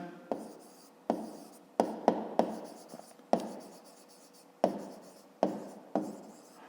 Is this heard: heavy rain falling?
no